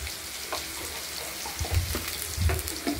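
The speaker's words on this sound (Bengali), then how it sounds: "আলুটা ভাজা হোক।" Potatoes fry in a pan seasoned with salt and turmeric, giving a steady close sizzle with a few louder bursts of stirring and scraping near the end.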